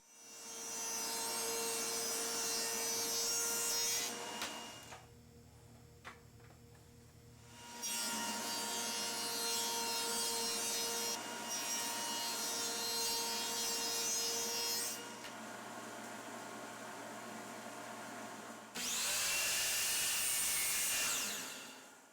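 A table saw on a sled cuts a dado for T-track in wood in two passes, with a loud whining blade rip, a quieter pause, a second cut, then a final louder burst.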